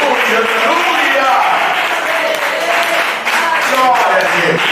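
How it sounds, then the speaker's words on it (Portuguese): A church congregation at an evangelical service claps together in a steady, dense wash of applause, filling the room at close range for the full length with no break. "Pode assentar batendo palmas, glorificando, exaltando o nome de Jesus"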